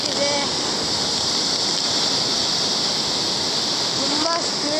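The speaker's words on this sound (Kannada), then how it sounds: "ತುಂಬ ಸ್ಪೀಡಾಗಿ ಹೋಗ್ತಿದೆ ನೀರಂತೂ." Fast-flowing water surges past in a powerful, continuous roar like a waterfall, close and loud from start to finish, with faint voices beneath.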